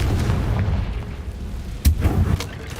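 A Confringo fire spell blasting in the Hogwarts Legacy video game: a dull low rumble, then one sharp loud boom near the end followed by a softer burst.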